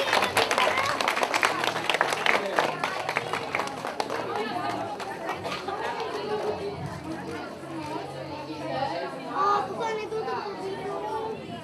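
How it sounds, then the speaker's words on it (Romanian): An audience at a kindergarten event applauds a preschool prize winner, clapping mixed with children's chatter and a voice speaking over the crowd, busy and close, fading into murmuring. "Haideți să-l aplaudăm pe Mușa Silviu."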